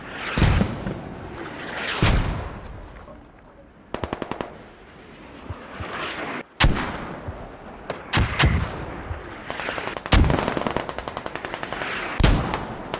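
Gunfire in a combat video game match on the Fools Road map, with bursts of rapid machine-gun rattle and sharp single shots, plus heavy booming impacts from mortar fire, loud and close in irregular clusters.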